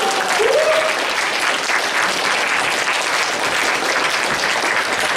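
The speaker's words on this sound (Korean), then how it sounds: "박수 한번!" Church congregation applauding during a Sunday worship service, a dense, steady wash of clapping that stays loud and even throughout.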